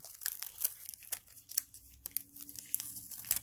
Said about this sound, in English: remove this piece of tape that originally held this zipper down